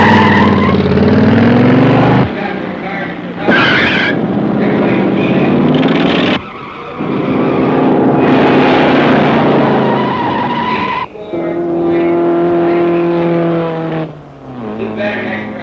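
Race cars at a 1950s racing event roar and skid in loud, continuous passes broken by sharp cuts, with tire squeal and revving close up and no speech.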